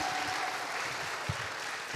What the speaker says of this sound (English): Please, everyone, clap your hands for our paper presentations.